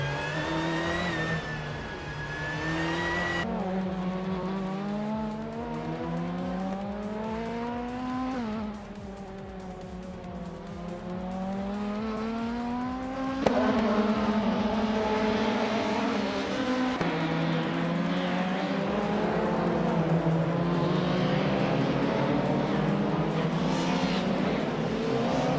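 Race car engines in a racing game at Yas Marina, including a 1991 Ford Sierra Sapphire, hold a continuous loud roar with rising and falling revs as the cars accelerate and shift gears.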